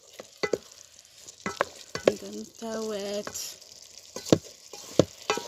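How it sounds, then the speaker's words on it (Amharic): Meat sizzles steadily with onions in a small iron pot, under sharp scrapes and knocks of stirring, while someone speaks briefly. "እንደምታዩት እንግዲህ ስጋዬን ጠበስ እያደረኩ ነው።"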